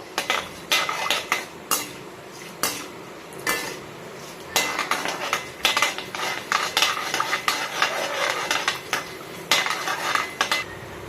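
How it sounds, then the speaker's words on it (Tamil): Mustard seeds, chana dal and urad dal fry in hot oil with a ladle stirring against the pan, giving repeated sharp metallic clinks and scrapes in irregular bursts over a faint sizzle, no talk. "இப்போ வந்து கடுகு கடலப்பருப்பு உளுத்தம்பருப்பு போட்டுக்கலாம் கடுகு நல்லா பொறிஞ்சு வரட்டும்"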